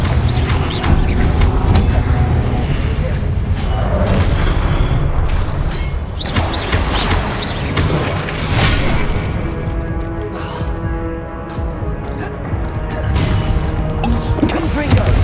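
Repeated Confringo explosive spell blasts from Hogwarts Legacy boom and crash loudly over busy combat noise, with heavy impacts coming in quick succession throughout a hard-mode fight.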